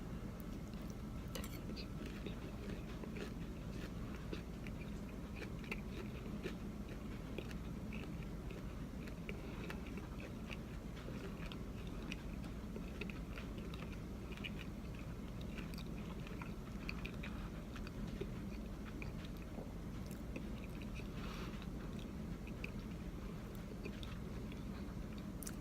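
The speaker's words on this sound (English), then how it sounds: "I'm just gonna have a bite of that sausage by itself for a second." Biting and chewing on a sausage and pastry, steady close mouth sounds with soft crunches running continuously throughout, no talking.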